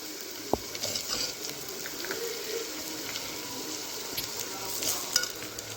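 Diced brinjal and potato frying in a pan for kootanchoru, a soft, low sizzle with a sharp clink early on and faint stirring scrapes, heard alone without speech.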